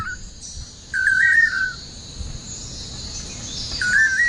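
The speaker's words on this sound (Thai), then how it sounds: "นกน้อยของเราอาจมีขนแบบตัวโตเต็มวัยแต่เสียงของมันยังคงไม่แตก มันร้องผิดจังหวะเหลือเกิน" A young manakin sings in short, uneven, off-beat whistled phrases, two bursts separated by a pause, against a quiet forest background with faint insect hiss.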